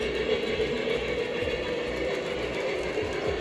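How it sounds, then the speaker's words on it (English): Model trains running on a home layout, a steady close mechanical whirr and hum with faint rhythmic clicking of wheels on track, no talking. "Matt Shack, you got some awesome trains"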